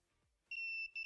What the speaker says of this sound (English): it does get annoying when you hear that beeping noise